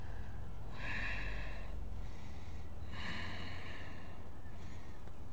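Slow, deep breaths during a strong vinyasa yoga flow with handstands and arm balances, two long audible exhales repeating at an even pace over a low steady room rumble, with no talking.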